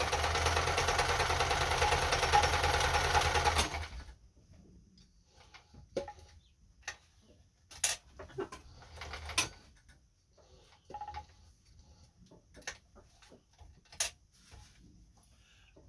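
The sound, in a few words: Kenmore 10 Stitch sewing machine stitching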